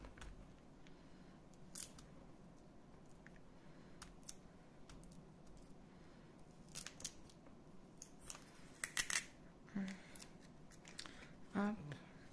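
Tape being cut on a small, battered package box, a quiet sequence of snipping and crinkling clicks that grows busier toward the end, set against soft room noise.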